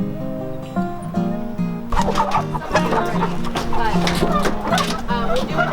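Homestead chickens on an Idaho farm clucking and squawking close by, a steady chatter of overlapping calls that grows busier midway, with some turkey-like gobbles in the mix.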